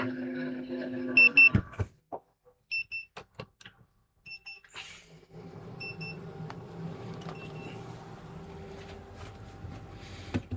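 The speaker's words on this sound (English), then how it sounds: "Oh, getting an alarm. What is it? It's battery." Several short, high electronic beeps from a low battery alarm in a woodturning workshop, spaced out in a quiet stretch, followed by a steady low hum of machinery.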